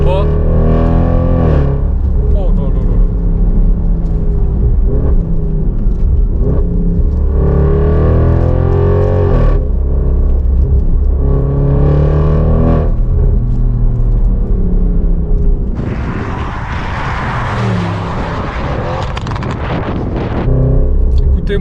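Audi RS6 C7 tuned to 730 hp, its engine roaring hard and loud under acceleration, with wind buffeting the microphone and someone talking excitedly over much of it.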